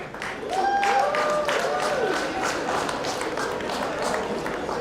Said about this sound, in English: Round of applause for the drama, master drama, Felix Machiriza